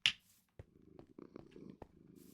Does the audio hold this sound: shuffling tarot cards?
no